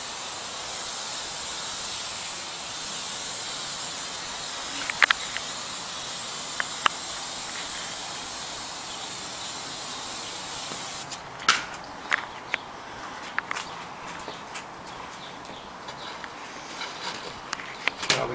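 Garden hose spraying water onto the roots of a nursery juniper being made into a bonsai, a steady broad hiss that runs on, with brief knocks and rustles of handling joining in the later half.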